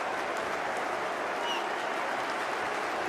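A large football stadium crowd roars and claps in a continuous dense wash of cheering and applause, steady and loud throughout, with no single voice standing out.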